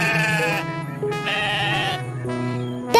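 A cartoon goat bleats in an animated jungle animal story: three loud, close, wavering harmonic cries in quick succession with no talking.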